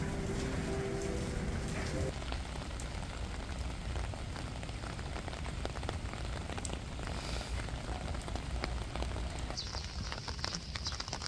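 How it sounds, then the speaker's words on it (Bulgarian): Heavy rain falls outdoors in Busan, a dense steady patter and hiss that continues unbroken throughout, with a brief low tone near the start. "Тръгвам се, че много вали."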